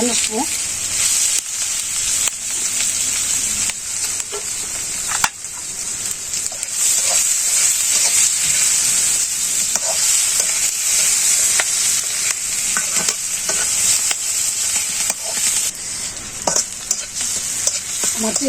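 Chopped onion frying with black cumin paste in a village kitchen pan, giving a loud, continuous sizzle with frequent spatula scrapes and clinks throughout.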